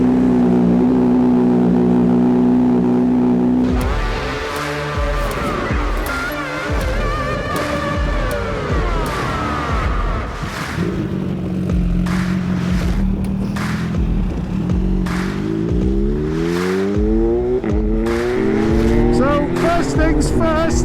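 A Kawasaki Z H2 motorcycle engine idles, then accelerates through rising and falling revs while riding, loud and continuous, with bursts of wind noise across the ride.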